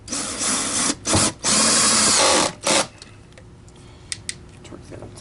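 Power drill tightening screws on a TriStar EXL vacuum cleaner during a repair, with several short whirring bursts close by, one long, followed by quieter handling clicks.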